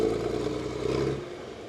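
A 1968 John Deere 4020 tractor fitted with a big chrome straight pipe rumbles past in a parade, a steady, throaty engine roar at moderate distance that eases off slightly toward the end.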